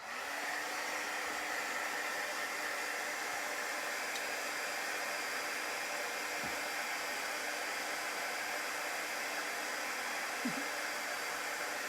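A hair dryer runs steadily and loudly for the whole stretch, drying a chalk-painted wooden bunny cutout; the even blowing roar never breaks, with only faint small bumps beneath it.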